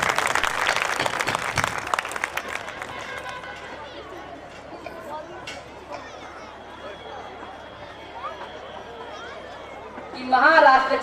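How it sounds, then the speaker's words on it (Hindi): An audience applauds after a stage performance at a school annual function in Shahabad. The clapping is dense and loud in the first few seconds, then thins into a busy crowd murmur, with a brief louder burst near the end. "अगर प्रस्तुति पसंद आई हो तो तालियां बजाइए"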